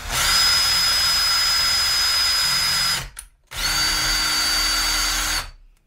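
A drill spins a grinding bit against chainsaw teeth, giving two loud sustained high whines of steady grinding separated by a short pause, close up with no talk.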